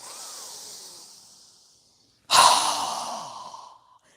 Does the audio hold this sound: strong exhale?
yes